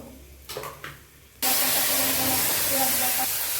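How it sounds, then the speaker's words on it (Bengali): Fenugreek seeds sizzling in hot oil in a kadai: after a few soft knocks, a loud, sudden hiss bursts in and holds as a dense, steady crackling sizzle, close and continuous. "তো আমি এখানে মেথি ফোড়ন দিয়েছি, হালকা লাল লাল হয়ে আসলে মশলাটা দিয়ে দেব।"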